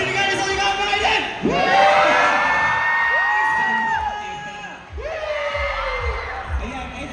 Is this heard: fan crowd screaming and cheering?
yes